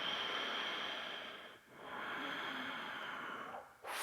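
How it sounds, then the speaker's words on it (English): Slow, audible ujjayi breathing during a yoga hip-opening session: a long, steady, ocean-like breath drawn through a narrowed throat, pausing briefly before another long breath, close and unaccompanied by talk. "ujjayi breathing"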